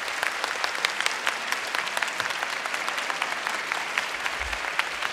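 Sustained applause from a concert audience thanking the dancers of a Japanese festival-themed drum performance show in Tokyo, dense steady clapping with a few sharper claps standing out, lasting throughout.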